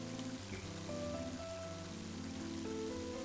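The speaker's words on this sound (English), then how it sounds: "And now it's starting to rain." Rain falling in the video game Mother 3, a soft steady hiss of rainfall running under game music tones, faint and continuous.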